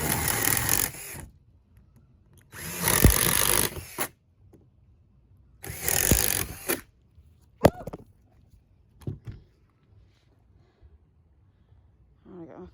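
A power drill bores corner holes in three loud whirring bursts of about a second or more each, separated by quiet pauses, followed by a few shorter clunks and knocks.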